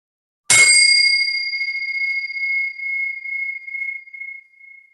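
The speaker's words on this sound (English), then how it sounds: "listening to the sound of the bell" A meditation bell is struck once, giving a bright, clear metallic ring that sustains and slowly fades with gentle pulsing over several seconds, alone in silence.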